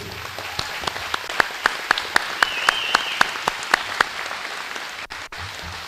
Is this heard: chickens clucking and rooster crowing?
no